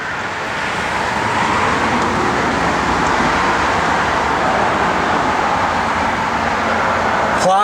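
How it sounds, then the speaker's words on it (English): A 1965 Chevrolet Impala SS convertible drives along the road, giving a steady wash of engine and road noise with no big cam fitted, continuous and fairly loud from inside the car, with no talk. "Car drives good."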